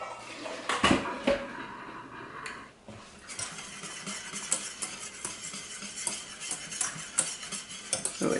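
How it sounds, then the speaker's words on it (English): Boiled potatoes being drained from a pot in a home kitchen: a steady rush of pouring water runs for several seconds, with a few sharp clatters of the pot near the start. "Now I'm just going to go ahead and drain these potatoes while I'm waiting for that to come back to the boil"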